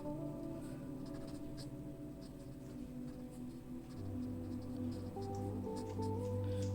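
Grey marker stroked over pencil graphite shading on paper: faint, soft scratchy drawing strokes repeating in short passes, quiet and close, under a steady low background hum.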